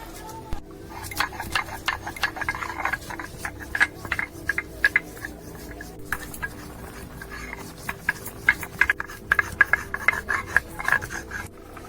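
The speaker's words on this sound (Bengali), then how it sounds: "গরম মশলাটা বেটে নেবো" Garam masala spices are ground by hand on a grinding stone, making a continuous close scraping rasp with irregular gritty strokes and sharp clicks throughout.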